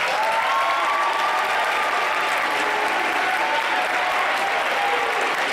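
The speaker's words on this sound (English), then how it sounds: "please give all our candidates a round of applause" A student audience at a youth gubernatorial debate applauds steadily, dense clapping filling the space at an even level throughout, with no speech over it.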